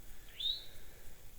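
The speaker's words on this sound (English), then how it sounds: "listening to some birds" Birds at a lean-to campsite: one short, high chirp rises out of quiet outdoor ambience, faint and somewhat distant, with no other calls following.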